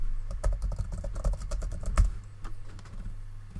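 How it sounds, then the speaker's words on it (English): Rapid computer keyboard typing with uneven bursts of clicks, close and clear over a low steady hum, no voices. "Why can't I type in here?"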